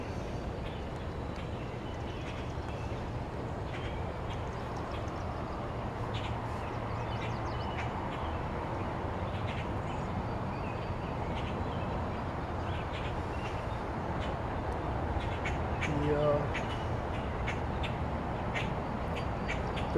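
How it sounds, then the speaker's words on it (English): Birds call outdoors at the edge of a city at about eight on a June evening, with duck-like quacks and crows' caws mixed into a steady, dense ambient bed. The calls are mostly distant and continuous, with one slightly louder burst near the end. "The birds are chirping."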